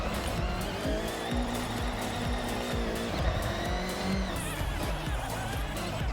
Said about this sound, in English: And I feel bad for the engines in these cars.